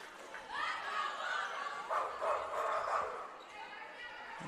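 Girls on a JV high school volleyball team bark like bulldogs in a gym, a rough chorus of several voices imitating dog barks that rises and falls, with crowd noise and talk around it.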